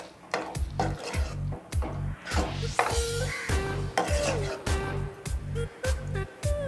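Food being stirred and mixed in a pan after a little sugar is added, with a steady series of soft scraping strokes and light clatter, close and moderately loud, under a voice talking.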